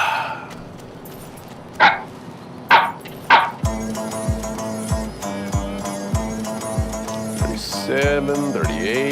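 A CGI watermelon dog barks in a Mountain Dew Major Melon Super Bowl commercial, giving three sharp separate barks that are followed by a steady thumping beat with music and a tone sweeping up near the end.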